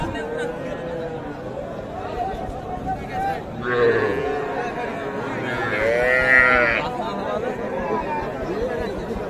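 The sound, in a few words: small calves and cattle mooing at a cattle market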